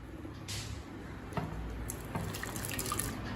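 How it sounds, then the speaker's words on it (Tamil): Hot water poured from a height into a cooking pot while making biryani, a steady splashing trickle with a few brief drips and clinks, close and moderately loud. "இப்போ இந்த பாத்திரத்தில் சுடுதண்ணி ஊற்றிக்கலாங்க"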